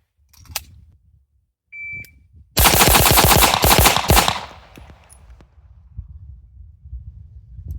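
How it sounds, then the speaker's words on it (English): A Staccato XC pistol fires a rapid string of ten rounds in one quick burst, loud and close, right after the electronic beep of a shot timer, with quiet surroundings before and after. "10 rounds of Jello shots with the Staccato XC."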